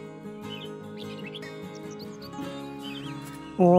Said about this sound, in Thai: เสียงนกหอนจุก